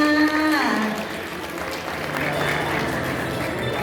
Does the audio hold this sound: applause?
yes